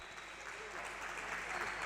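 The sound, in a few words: applause for both futsal teams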